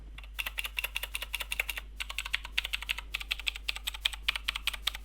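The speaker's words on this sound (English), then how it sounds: "what did you think of my keyboard? It probably sounded very, very, very annoying." Rapid, crisp keystrokes clatter on a computer keyboard in a close, continuous flurry of clicks, with short pauses between bursts of typing, over a low steady electrical hum and no voices.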